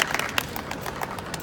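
Street theatre audience applauding during a juggling act: a short burst of scattered hand claps rising and falling, moderately loud and crowd-like, with no voices over it.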